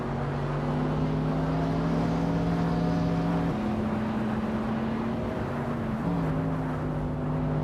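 Racing cars in a video game leave the start line in Rio de Janeiro, a 2006 Ferrari P45 among them, and their engines drone loud and steady. Tones shift in pitch around upshifts, with no talk.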